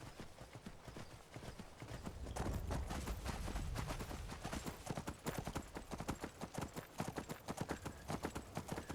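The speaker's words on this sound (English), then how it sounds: "Now it's sprinting right now, and the horse will use up its stamina at some point" Rapid hoofbeats of a sprinting horse in the video game Skyrim SE pound in a fast, steady rhythm, loud and close, with no voices.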